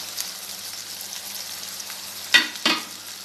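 Spice powder hits hot oil for a garlic pickle, giving a soft steady sizzle with two sharp spoon clinks near the end.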